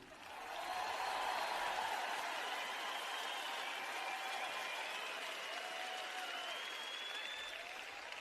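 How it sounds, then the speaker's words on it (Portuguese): An indoor audience at a church sermon breaks into sustained applause that swells quickly and holds steady, heard from a distance. "Vocês não estão batendo muitas palmas sobre isso?"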